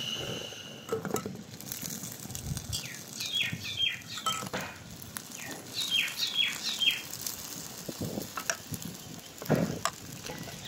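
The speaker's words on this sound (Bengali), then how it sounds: "আর এইভাবে করে আমি সব মিষ্টিগুলো ভেজে নেব" Homemade flour-dough sweets fry in hot oil with a steady, close sizzle and bubbling crackle, while birds chirp intermittently in the background.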